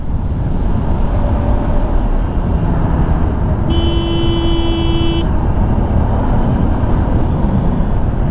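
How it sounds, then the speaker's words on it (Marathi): A truck labours up the Amba Ghat mountain road in traffic during road-widening work, its engine a steady close rumble, with a loud horn blaring for about a second and a half midway. "अरे बाप रे ट्रक कुठे चढला चढलाय"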